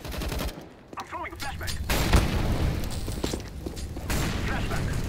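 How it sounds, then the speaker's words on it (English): A flashbang grenade goes off in Counter-Strike: Global Offensive, a loud booming burst within continuous gunfire and in-game noise, with a ringing blast partway through. "Flashbang!"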